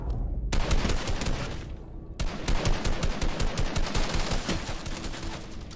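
Rapid automatic gunfire from a Fortnite match, a near-continuous loud fusillade of overlapping shots with brief pauses, filling the whole stretch without talk.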